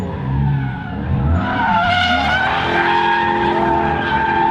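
A Lexus LS400 drift car skids with a loud, sustained tire squeal over a roaring engine, close and continuous for about four seconds before cutting off abruptly.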